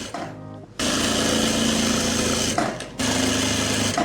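Sewing machine stitching elastic onto the hem of a straight plazo: a steady, close mechanical whir that starts after a short pause, runs continuously with rapid stitching rhythm, then stops briefly and resumes, with no talking.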